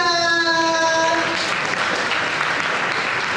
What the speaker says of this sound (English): Give it up for Tony Cimaglia.